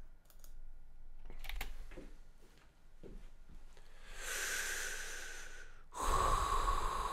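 Recorded breathing played back in Logic Pro X: a run of soft, close breaths and snorty inhales and exhales, some light clicks between, then a louder, fuller breath near the end.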